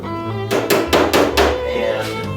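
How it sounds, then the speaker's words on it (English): A body hammer strikes a car fender held against a dolly, giving four sharp metallic blows in quick succession, close and loud, ringing over a low background hum. "Then I'll use a body hammer"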